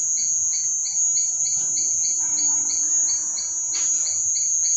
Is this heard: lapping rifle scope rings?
no